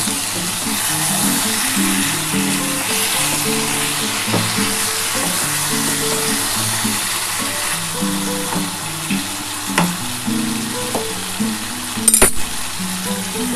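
Fried potatoes go into a pan of simmering mutton curry, giving a steady loud sizzle and frying hiss with stirring scrapes and a bright metallic clink near the end.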